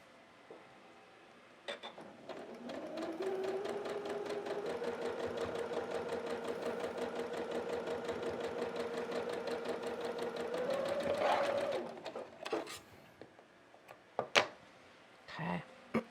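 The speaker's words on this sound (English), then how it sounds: "Okay, so I'm going to go ahead and sew it just like that." A sewing machine stitches quilt pieces for a snowman quilt in a steady, fast run lasting about ten seconds, with a slight rise in pitch near the end, then a few clicks and handling knocks as it stops.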